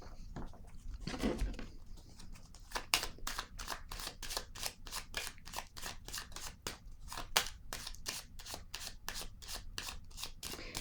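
Tarot cards shuffled and drawn by hand, giving a long run of quick, crisp riffling snaps close up after a brief rustle, with a voice murmuring faintly at the start.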